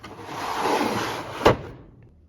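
A drawer on a Craftsman or Husky mechanic's tool chest, loaded with a 1/2-inch socket set, slides with a rolling rumble and ends in one sharp close thump, close up and alone.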